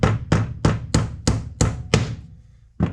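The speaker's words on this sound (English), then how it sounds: "So the hammer kind of knocked it out of there." Hammer blows knocking a part out of a Motocaddy golf caddy wheel clutch on a workbench: six sharp, evenly spaced metallic strikes close up, then a brief pause and one more hit, with no talking.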